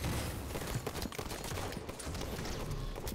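Halo 5 gunfire in a capture-the-flag match rattles continuously as rapid, overlapping shots, loud and dense throughout with no pauses.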